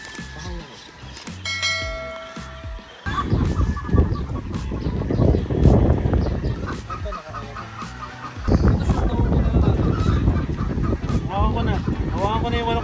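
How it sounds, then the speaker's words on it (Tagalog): Chickens kept for sale cluck and a rooster calls amid a busy outdoor scene, with ringing tones early on, people talking throughout and a dense, noisy background. "Hawakan ko na yung manok ni Boss Billy Canlas."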